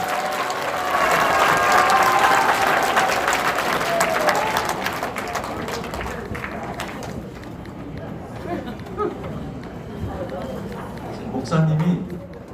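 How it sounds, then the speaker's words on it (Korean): Welcoming applause from an audience at a Korean theological school lecture, dense and loud at first with a few voices mixed in, then thinning out and fading over several seconds. "박수로 환영해 주시기 바랍니다"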